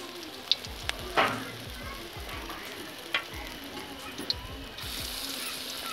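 Masala-coated naan set into hot ghee gives a steady close sizzle, with scattered sharp clicks and taps of handling over the frying hiss.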